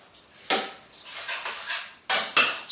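Stirring yoghurt into bean makhani in a pan, a utensil scraping and clinking against the metal in a few irregular strokes, close and fairly loud, with two sharper knocks near the end.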